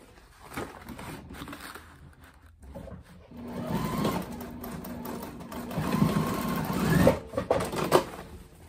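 A domestic sewing machine stitches corners of a fabric summer project box together, running in steady mechanical bursts that grow louder toward the end, with brief pauses between runs.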